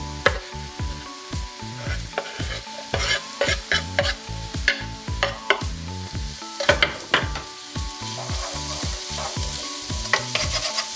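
Ginger and garlic fry and sizzle in a pan while a utensil stirs them repeatedly, with scraping strokes over steady frying noise, close and fairly loud, no talking.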